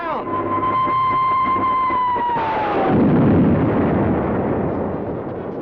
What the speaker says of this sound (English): Captain Video exploded that rocket in midair.